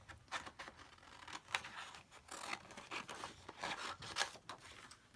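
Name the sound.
cutting out a paper tag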